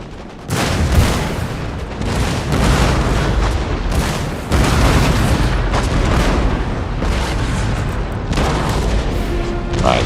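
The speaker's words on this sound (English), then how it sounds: "single cannon is just decimating our line of artillery" Heavy cannon and artillery fire in the battle game Total War: Empire, with dense booming volleys and rumbling blasts rolling on without pause, loud throughout.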